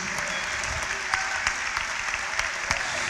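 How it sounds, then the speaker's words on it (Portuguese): A church congregation applauds steadily through a worship service, dense continuous clapping with a few sharper claps standing out and faint background voices. "Vamos continuar aplaudindo ao Senhor Jesus."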